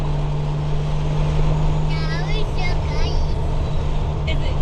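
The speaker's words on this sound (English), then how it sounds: "the exhaust is perfect and the turbo is so loud" A Lexus IS300 with a turbocharged 1JZ engine drones low and steady from inside the cabin under light throttle, with faint whistling turbo spool rising and falling while people talk over it.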